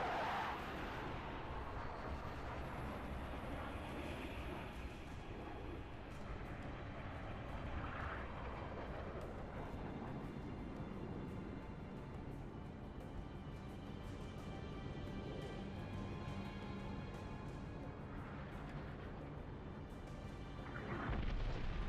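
Heavy orbital defense cannon fire in the sci-fi shooter Halo Reach, a sustained loud rumbling boom that rolls on with low roaring swells and no talk over it.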